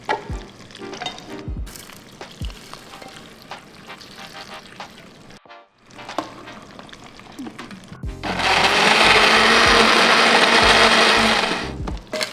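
Kitchen blender whirs loudly for about four seconds near the end, grinding shallots, garlic, ginger, roasted spices and candlenuts for an oxtail soup paste, after quieter kitchen clatter and handling sounds.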